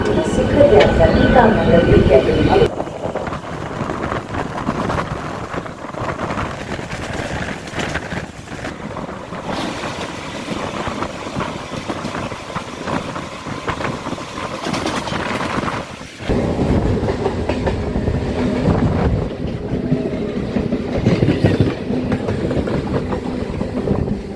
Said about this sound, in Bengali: হাওড়া থেকে একদম রাইট টাইমে কিন্তু আমাদের ট্রেন ছেড়ে দিল ব্যান্ডেলের উদ্দেশ্যে